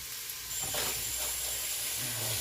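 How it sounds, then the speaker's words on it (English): Chicken browning on the sauté setting of an Instant Pot gives a soft, steady hiss that swells briefly early on and then settles into a constant close sizzle, with no one speaking. "I think I'm going to throw the chicken in there as well to get that nice and browned up."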